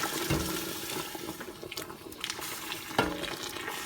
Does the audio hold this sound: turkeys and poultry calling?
no